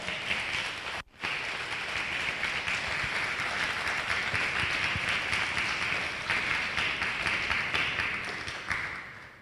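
Crowd at a talk applauds a business owner as he is welcomed to the stage: a brief dip, then sustained, dense clapping that holds steady for several seconds before slowly tapering.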